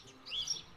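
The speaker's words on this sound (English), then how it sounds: "And these fucking birds." A bird gives a single brief chirp in a garden where tomatoes are being planted out. The call is faint and rises in a quick twittering burst over a quiet background.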